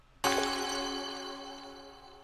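A single bright, layered chime chord from the Carto video game puzzle sound effect, all four stages triggered at once, striking sharply and then ringing out slowly, clean and isolated.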